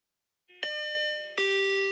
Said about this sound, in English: a monorail chime to let us know